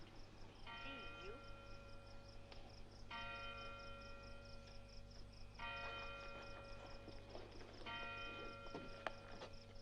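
Big Ben's clock tower bells chime in several long, ringing strikes, one after another at a steady pace, with a low hum and scattered background noise underneath and no one talking.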